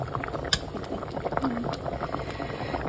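Beef sinigang soup with okra simmers at a rolling boil in a pot, a steady bubbling and burbling of broth with a brief clink near the start, moderately close and continuous throughout.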